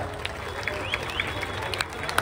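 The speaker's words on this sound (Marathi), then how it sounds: "कडकडून टाळ्या वाजवायच्या." Crowd at a Dahi Handi festival in Titwala claps for a Govinda team, scattered clapping over a steady din of outdoor crowd noise, with a few sharp squeaks or whistles rising above.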